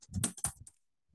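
A short burst of clicks on a computer keyboard, several quick keystrokes close up in a quiet room, then stillness.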